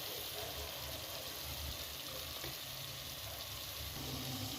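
Garam masala, coriander powder and chilli powder sizzle in hot oil while being stirred in a pan for a grandma-style fish curry, a steady close hiss and crackle with no pauses.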